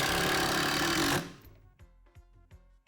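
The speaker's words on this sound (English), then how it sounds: "Are you going to be drilling while I'm holding?" A power drill runs in one loud continuous whir while a DIY multipurpose seating unit is assembled, then cuts off into a series of sharp knocks and taps.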